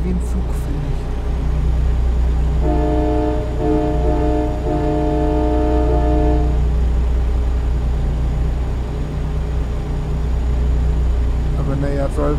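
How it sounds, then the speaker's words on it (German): Freightliner Cascadia truck horn in American Truck Simulator, a loud sustained train-like chord blaring for several seconds in repeated bursts over a steady low engine drone. "Und die Hupe klingt wie ein Zug,"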